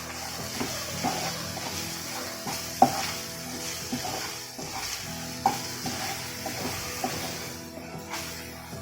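A spoon stirs turmeric and chili powder into a fish curry base in a pan, making repeated scraping and knocking strokes over a soft background sizzle, with occasional sharper clinks.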